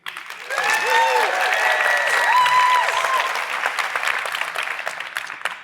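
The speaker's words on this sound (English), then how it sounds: "So I want a really loud round of applause for Elizabeth and Marcus" Audience at a conference session breaks into a loud, sustained round of applause that stays dense for several seconds before tapering slightly, with a few voices and whoops rising above the clapping.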